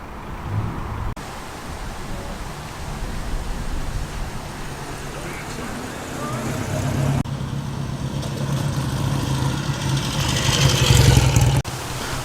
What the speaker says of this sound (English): All sorts of cars and trucks and bikes are trickling in steadily